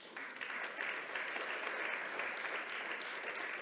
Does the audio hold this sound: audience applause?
yes